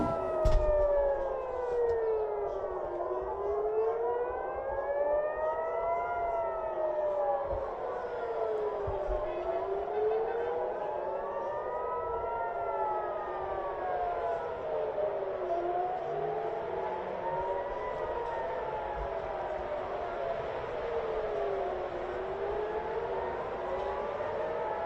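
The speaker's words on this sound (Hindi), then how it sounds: "पूरे तेल अवीव में सायरन बज रहे हैं" Multiple air raid sirens wail across Tel Aviv during an Iranian missile attack, in overlapping rising and falling sweeps, steady and far-reaching, with faint voices and distant activity underneath.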